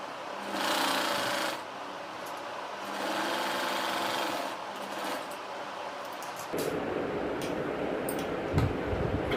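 A sewing machine runs steadily while stitching the front panel of a prince-cut blouse, with two long whirring bursts separated by a brief pause, then a shift to a rougher, noisier texture near the end.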